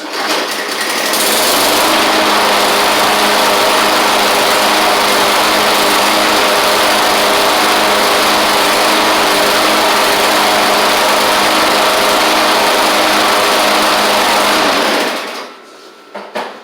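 A Craftsman M100 push mower's small engine runs loud and steady for about fifteen seconds with a constant buzzing drone, then shuts off and winds down.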